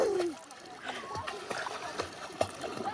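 A child splashes and paddles while swimming in a lake, with soft watery sloshing and plopping near by as people talk throughout.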